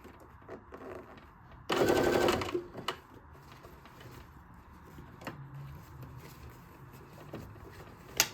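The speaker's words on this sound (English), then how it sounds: "continue sewing this binding down just straight across" A sewing machine stitching binding onto a fabric camera pouch runs in one short loud burst of under a second, followed by quiet handling clicks and fabric adjustments nearby.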